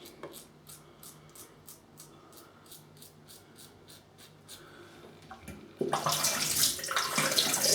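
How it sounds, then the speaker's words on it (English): Cold tap water runs over an Edwin Jagger 3ONE6 razor being rinsed, with a sudden loud gush of splashing water after a stretch of quiet rhythmic rubbing strokes. "Again, rinsing with cold water."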